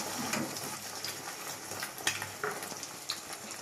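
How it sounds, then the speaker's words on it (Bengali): Bread frying in egg and hot oil in a wok crackles and sizzles close up, with scattered sharp pops and faint stirring scrapes over a steady hiss. "এবার দেখো আমি দিয়ে দিলাম পাউরুটিটা।"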